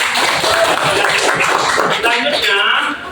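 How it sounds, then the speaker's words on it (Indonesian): A classroom of students clapping after a group presentation, brisk scattered applause with chatter and light laughter mixed in. "Kita berikan tepuk tangan yang meriah."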